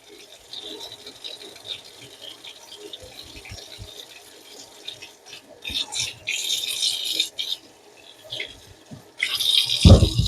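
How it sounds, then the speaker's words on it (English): Scrubbed potatoes rinsed under a running kitchen tap, a steady close stream of water hitting skins and a bowl, getting louder and splashier in bursts toward the end, with no talking. "scrub down my potato, since I want to leave the skins on, and then I give it a rinse like this"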